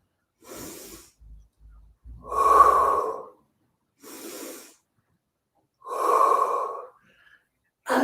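Audible breaths during a standing Pilates side bend: four clear cycles alternating a soft inhale with a stronger, longer exhale, close to the mic with silence between each.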